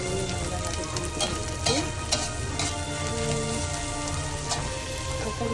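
Curry leaves and masala sauté in hot oil for an anchovy varuval. The sizzle is loud and continuous, with light clatters of stirring throughout and no speech.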